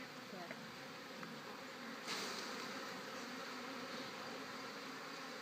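Steady, diffuse buzzing from many honey bees close by around an open hive, a continuous hum with no breaks and a slight swell partway through.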